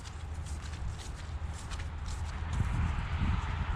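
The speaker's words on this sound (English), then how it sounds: "You hear the squish squish?" Squishing footsteps on a soggy, muddy yard in spring, heard as soft, wet, irregular thumps that grow slightly louder toward the end over quiet outdoor ambience.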